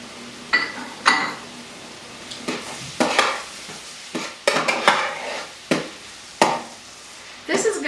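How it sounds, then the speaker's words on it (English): Cubed ham stirred in a pot over heat, a soft sizzle running beneath repeated scraping and clattering strokes of a utensil against the metal, irregular bursts spaced across the stretch, close by with no talking. "Now I'm going to add the ham in. It's just cubed ham."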